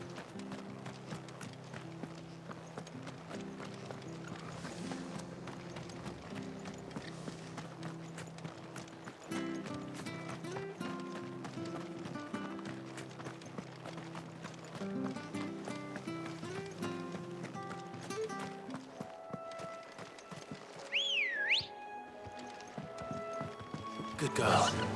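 A chocobo mount runs in the Final Fantasy XVI video game, its rapid clip-clop footfalls steady under game music, with a bird-like call near the end.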